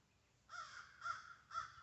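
Three harsh crow caws in an even rhythm, fairly faint and a little distant, with no other sounds around them.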